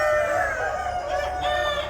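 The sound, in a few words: chickens clucking on a poultry farm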